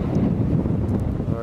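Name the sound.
wind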